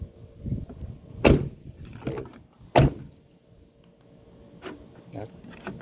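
The central door locks on a 1997 GMC Sierra 2500HD 4x4 actuate by remote, with two sharp, loud mechanical thunks a second and a half apart and fainter clicks later, with quiet voices in between.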